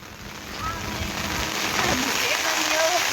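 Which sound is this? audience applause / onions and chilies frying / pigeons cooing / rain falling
rain falling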